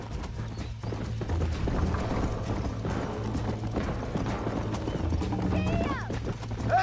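Hooves of a horse galloping in a race in the video game Red Dead Redemption, a continuous clip-clop under a voice talking, with music and a brief whinny near the end.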